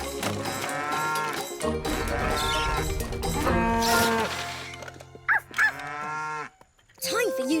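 A cartoon cow moos loudly several times in long, drawn-out calls against a musical background, with short pauses between the lowing.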